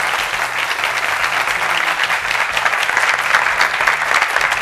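An audience at a youth employment debate applauds steadily to welcome a woman guest onto the stage, with dense, sustained clapping that stays loud throughout and no talk on top.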